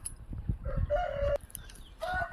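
A native fighting rooster (natu kodi) crows once, nearby and moderately quiet, with a short tonal call followed by a second brief crow fragment over low background noise.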